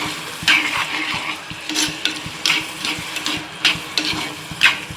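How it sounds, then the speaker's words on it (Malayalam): A fish curry seasoned with turmeric powder is stirred in a pan: repeated, rhythmic scraping strokes, close and clear, over a soft bubbling simmer. "നല്ലപോലെ ഇളക്കി കൊടുക്കണം"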